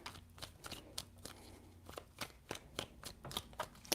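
Tarot cards being shuffled, a series of quick crisp riffles and snaps repeating irregularly, close up and fairly quiet with no talking.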